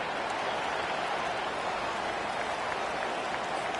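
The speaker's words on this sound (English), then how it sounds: "this crowd coming to life here, trying to help the defense get a stop" A football stadium crowd roars steadily during a game, a dense, loud wash of cheering that holds without a break.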